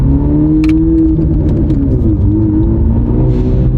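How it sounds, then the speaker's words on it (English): A small, zippy car's engine rumbles and hums steadily from close by as it drives off, loud and continuous with a faint rising whir. "It's a fun little car to drive around."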